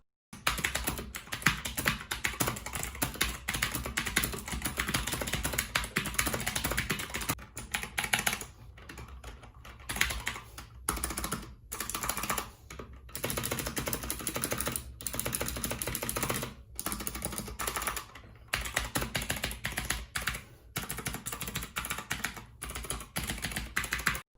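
Rapid clacky keystrokes on a Chonchow TKL mechanical RGB gaming keyboard, heard close and continuous with brief gaps between bursts of typing and no speech.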